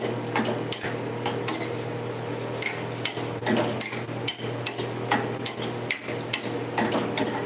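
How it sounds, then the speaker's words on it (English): A spoon scrapes and knocks in short irregular strokes against a pot of South Indian potato curry, close up over a steady low kitchen hum. "So I'm going to give this a stir."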